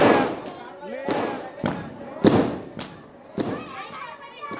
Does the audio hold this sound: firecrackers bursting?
yes